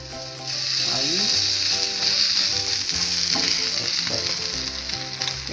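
A spinach tortilla sizzles steadily in a hot pan, a close, continuous crackling fry with occasional scraping and stirring touches after it is flipped to brown the other side.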